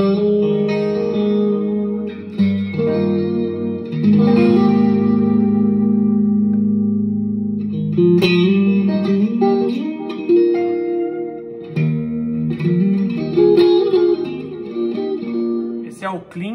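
Clean electric guitar tone through a Matchless-style amp model on a Zoom G1On multi-effects pedal, drenched in delay and a touch of reverb, playing sustained chords and melodic lines with trailing echoes, close and steady throughout.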